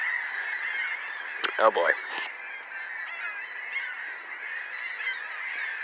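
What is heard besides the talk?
seagulls calling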